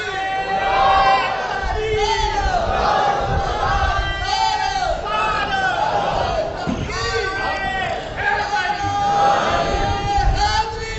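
A crowd at a Shia religious gathering chants Haidari slogans in loud, rhythmic group calls, repeated and echoing through the hall and mixed with voices.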